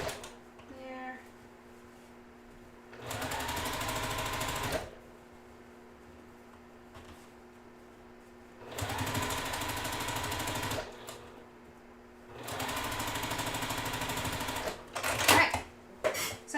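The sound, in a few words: sewing machine stitching quilt block rows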